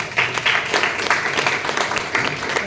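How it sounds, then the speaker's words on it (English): Audience applause at a Toastmasters club meeting, a moderate round of clapping with pulsing swells, somewhat soft and continuous for a couple of seconds without speech. "a round of applause for Shashi."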